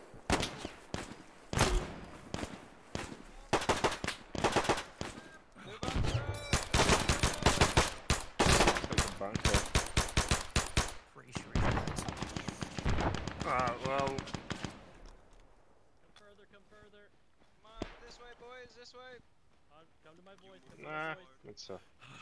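Heavy bursts of automatic gunfire and rifle shots in a WW2 Normandy D-Day paratrooper video game, loud rapid volleys continuing for several seconds, then sparser distant shots with voices talking over the fight.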